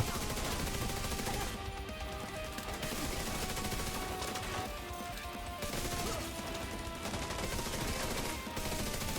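Gunfire in The Division 2, fast bursts of automatic shots crackling steadily with brief gaps, fairly loud and continuous against game ambience.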